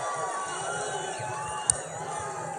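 A big crowd at a Donald Trump rally in Las Vegas keeps up a steady roar of cheering and shouting, dense and continuous, with one sharp whoop standing out briefly.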